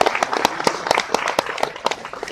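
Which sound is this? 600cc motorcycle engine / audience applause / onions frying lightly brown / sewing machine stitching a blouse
audience applause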